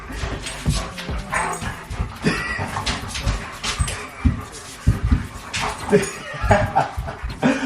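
A dog whimpers and yips in agitated bursts, close up, with short growly barks and some background voices.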